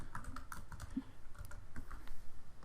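A password is typed on a computer keyboard: a quick run of close, light key taps in an uneven rhythm.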